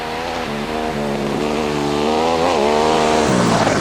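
A twin-cylinder rally motorcycle on the 2002 Dakar roars loudly and close, its pitch climbing as it accelerates. The tone drops near the end as it rushes past.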